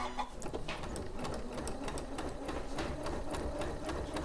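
A sewing machine stitches steadily with a fast, even mechanical chatter, quiet and close, running without a break.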